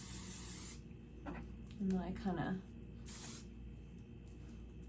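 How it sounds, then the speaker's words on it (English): Catwalk Your Highness weightless shine spray is sprayed onto the ends of hair in two short, close hissing bursts, the first at the start and the second a few seconds later, with someone talking quietly between them. "take like a little bit of shine spray to my ends, just the Catwalk Your Highness weightless shine spray"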